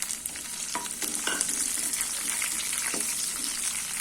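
Peeled shallots and a small piece of ginger sauté in a pan for a mixed-vegetable chutney. There is a steady close sizzle with scraping stirs and occasional clinks, and no one talks.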